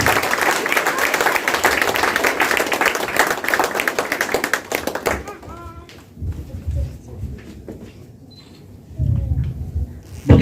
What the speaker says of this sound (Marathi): मी म्हणतो तुमच्या टाळ्यांचा आवाज जरा जोरदार येतो.